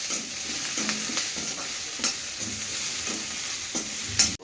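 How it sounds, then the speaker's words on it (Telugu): Potato frying in ghee while being stirred, a continuous bright sizzle broken by regular scraping spatula strokes across the pan, close up, ending in a louder clack, with no speech. "ఇది మంచిగా ఫ్రై అయినాక నెయ్యిలో ఫ్రై అవుతుంది."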